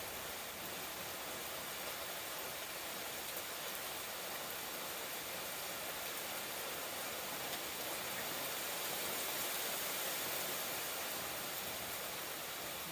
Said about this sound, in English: We don't get hard rain like this here very much.